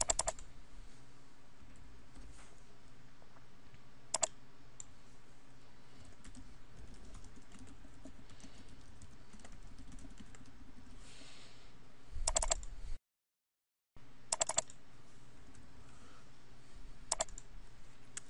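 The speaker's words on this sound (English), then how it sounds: "Now I'm going to type a few more dates." Keys clatter on a computer keyboard in a quiet room, soft close clicks in short runs with a few sharper taps and a brief pause, no talking.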